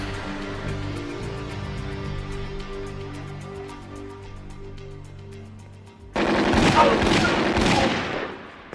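Gunfire from a TV drama scene: steady rapid bursts of automatic fire and heavy shots, loud and near, with a denser, louder volley erupting near the end over a low background.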